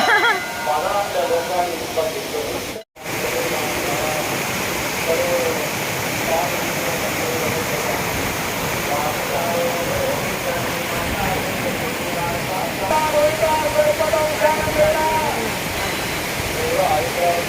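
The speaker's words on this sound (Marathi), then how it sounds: "बघा नदी किती खळाखळ वाहते" Swollen river after the rains, its water rushing and gurgling in a continuous broad roar, heard close up with a brief cut partway through.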